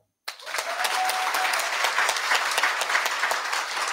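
Steady audience applause at a formal civic ceremony granting honorary citizenship in Alegrete, starting abruptly after silence and holding at full strength as a dense, even wash of many hands clapping.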